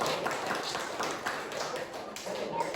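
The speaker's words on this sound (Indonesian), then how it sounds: "berikan aplaus untuk kelompok" A group of students in a classroom applauding one group, a brief light patter of clapping hands throughout, moderately quiet and slightly uneven.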